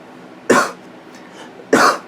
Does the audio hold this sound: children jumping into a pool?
no